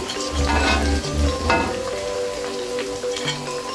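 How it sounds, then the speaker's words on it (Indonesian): Bala-bala vegetable fritters frying in hot oil, a steady close sizzle and crackle with occasional stirring and utensil clinks, no voices. "Cocok hujan-hujan ini goreng bala-balan."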